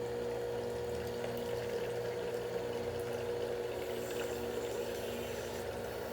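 A PURE juicer's hydraulic press squeezes juice from pulp in press cloths, a continuous pump drone with a steady hum and faint liquid trickling, the motor running at reduced speed.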